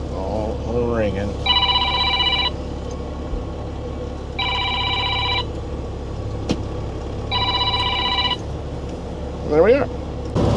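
A telephone rings in three separate bursts of bright electronic trilling, spaced evenly apart, over a steady Kenworth W900 truck engine rumble with brief talk before and after.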